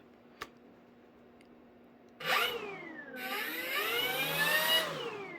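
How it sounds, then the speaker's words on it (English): Electric motor of an FMS Kingfisher V2 RC plane, silent at first with one faint tick, then whining up to a high-pitched spin, dipping briefly and revving again, its pitch sweeping up and down nearby. "Motor on."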